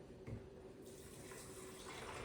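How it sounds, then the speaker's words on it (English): Vegetable broth pouring into a blender over cashews for green pea soup, a steady close liquid stream running throughout with no voices. "So I'm going to pour some of my vegetable broth here."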